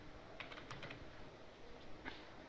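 Keyboard typing while an HTML lab program for a study timetable is written, a few quick key taps in small clusters over a low background hum, fairly faint and with no talk.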